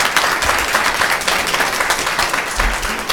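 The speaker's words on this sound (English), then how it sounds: "Please don't clap for me." Audience applause fills the room, loud and continuous with many overlapping claps close by, steady and unbroken from start to finish.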